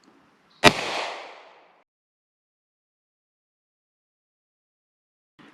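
A single sharp pistol shot of 158-grain solid lead ammunition fired into Play-doh, one loud crack with a short rumbling decay, then silence and a faint sound near the end.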